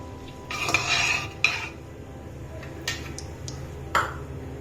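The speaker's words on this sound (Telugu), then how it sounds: "సరిగా కలుపుకొని" Chicken curry ingredients stirred in a metal pot, with a spoon scraping and clinking against the sides in a few bursts, plus sharp isolated taps, close by over a low background hum.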